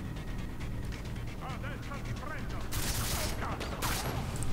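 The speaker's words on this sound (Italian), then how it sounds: "Adoro questo fucile perché è troppo preciso. Disse lui missando ogni singolo colpo." Rifle shots in Far Cry 3, heard as two sharp, loud bursts in the second half, cutting through steady game noise and talking.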